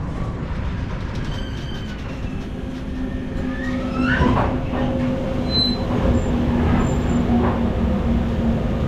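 A passenger train rolls through a rail yard with a continuous rumble of wheels on track, joined by rising squeals and faint clatter of cars as it moves along.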